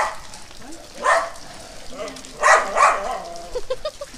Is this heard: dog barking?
yes